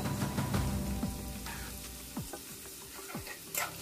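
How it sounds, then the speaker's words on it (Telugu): Onions frying in ghee in a pan for chicken pulao while being stirred, a steady close sizzle broken by several scraping strokes of a spatula, with no voices. "ఆనియన్స్ బాగా ఫ్రై అవ్వాలి."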